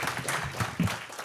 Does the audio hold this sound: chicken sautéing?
no